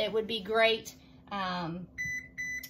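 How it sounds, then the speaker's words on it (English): An oven preheat buzzer sounds several short electronic beeps near the end, following brief speech from a woman cooking in a kitchen. "That buzzer is telling me that my oven is heated."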